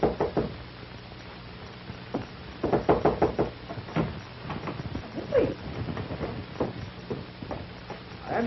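Knocking at an apartment door in a 1945 film scene: a series of irregular raps, some in quick clusters, moderately loud and a bit distant against a faint background hum.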